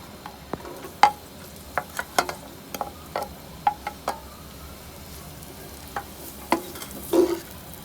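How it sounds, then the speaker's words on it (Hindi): Onions fry lightly in a pan for a homemade chicken vegetable samosa, with a soft steady sizzle under repeated sharp clicks and scrapes of a spoon stirring, close and without talk. "हल्का फ्राई करेंगे प्याज को, हल्का सा।"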